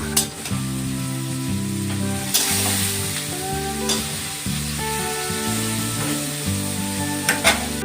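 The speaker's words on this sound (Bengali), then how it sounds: "কাঁচা পেঁয়াজটা তেলে ছেড়ে দিলাম।" Raw onion hitting hot oil for street-style chow mein, a steady loud sizzle and crackle close by, with a few stirring clatters and no voices.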